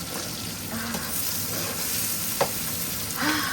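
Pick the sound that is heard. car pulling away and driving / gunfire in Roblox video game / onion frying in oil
onion frying in oil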